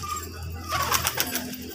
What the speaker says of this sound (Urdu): اور یہ ہے تین فائٹر کبوتر جو ہے پکڑے ہیں